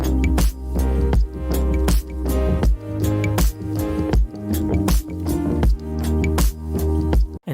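Layered synth patches from an electronic track play as a steady, rhythmic pattern of pulsing chord stabs over a deep bass, full and continuous with no voices.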